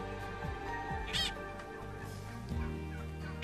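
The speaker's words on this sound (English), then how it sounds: "they have chickens, ducks, and turkeys" Chickens, ducks and turkeys kept by families living on the grounds of the Puente Piedra church give steady, overlapping clucks, honks and squawks, close by and fairly loud.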